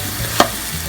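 A brief sizzling burst rises from masala spice paste frying in a pan for a golda shrimp curry. The hiss flares once and then settles into a low cooking murmur.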